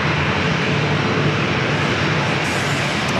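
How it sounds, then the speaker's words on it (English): A KLM airliner rolls toward takeoff at San Diego airport, a loud, steady broadband jet engine roar that holds constant throughout with no talking. "Our stick on KLM heading down for a takeoff back to Amsterdam."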